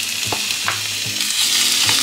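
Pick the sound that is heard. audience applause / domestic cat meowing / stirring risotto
stirring risotto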